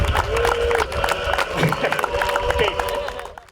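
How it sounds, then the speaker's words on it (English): A crowd at an opening-day Challenger Baseball event claps and cheers loudly, with whoops and shouting voices rising over continuous applause before it tapers off at the end. "Let's take a big round of applause for Jordan here, okay?"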